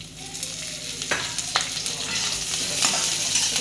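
Onion and masala frying in oil for a spicy bitter gourd curry, a continuous close crackling sizzle with a few sharp stirring scrapes, building slightly louder toward the end.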